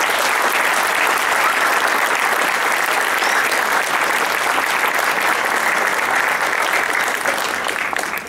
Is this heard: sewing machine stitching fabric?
no